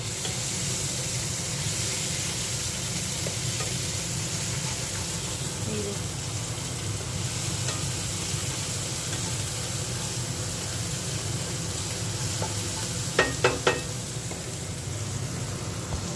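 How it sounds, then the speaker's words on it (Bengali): Chicken masala sautéing in a pan for a red chicken curry, a steady broadband sizzle running throughout with a few short sharp clinks near the end, under no talk. "এই যে চিকেন চিকেনের মশলাটা কষাচ্ছি সবে"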